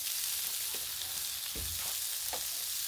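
Onion sizzles steadily on a Blackstone griddle, a constant close frying hiss with a few soft scraping knocks of a utensil and no talk.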